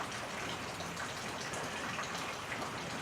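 Steady rain falls outdoors during an attempt to start a fire, a dense, even hiss with scattered patters that continues without pause.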